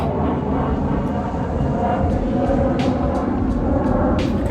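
A loud, steady roar of an airplane with broadband rumble and hiss, punctuated by occasional brief higher-pitched whooshes and clicks over the continuous drone.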